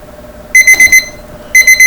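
Loud electronic alarm beeping in quick groups of four sharp tones, a pause, then another burst of beeps.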